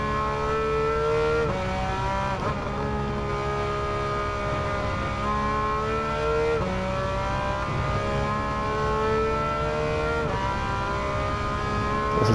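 A Porsche 911 race car on soft tires in Gran Turismo 7, its engine droning loud and steady with repeated rising revs through the gears and brief dips at each shift, with no voices over it.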